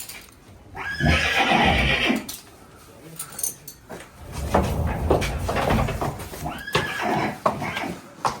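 Cold-blooded draft horses neigh and whinny loudly in several bursts, with hooves clopping and stable clatter in between.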